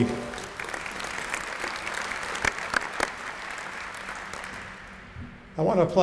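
Applause from an audience at a grand opening ceremony for the fourth building of the National Museum of the U.S. Air Force, steady clapping for several seconds, then fading as a voice begins speaking near the end.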